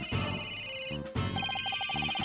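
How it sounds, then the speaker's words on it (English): Cell phone ringing in the Phoenix Wright: Dual Destinies video game: an electronic ringtone of bright repeating tones, broken by a brief gap, then resuming with a pulsing melodic pattern. "Where's that ringing coming from?"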